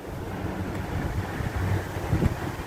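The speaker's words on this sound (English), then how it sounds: "It's sitting on the ground because it's really windy out" Steady wind buffets the microphone, a rough low rumble with gusty swells and no voices.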